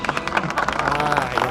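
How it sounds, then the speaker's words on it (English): Scattered applause from a small crowd from Star Trek, Deep Space Nine, quick uneven claps over a couple of seconds with a faint voice underneath. "Is it Deep Space Nine clapping?"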